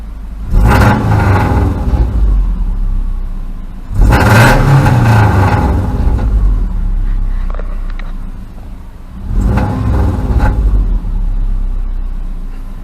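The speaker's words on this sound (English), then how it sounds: "let's go ahead and rev it up" Subaru Impreza engine, just after PCV and fuel pump replacement, revved three times: each loud surge climbs, holds for a second or two, then drops back to a steady idle, recorded close with no talking.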